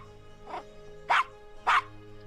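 A small dog in the Gabriel Knight: Sins of the Father video game gives three short barks, the last two loud and sharp, against a quiet game-room hum.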